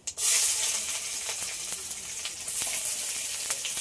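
Radhuni seeds and chopped onion hit hot oil for tempering, bursting into a loud, continuous close-up sizzle that holds steady with faint crackles and stirring throughout.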